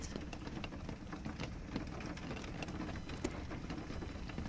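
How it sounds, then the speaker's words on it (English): Steady, soft rain patters continuously, with scattered drops ticking a little louder now and then; no voices. "Focus on the sound of the pitter patter raindrops"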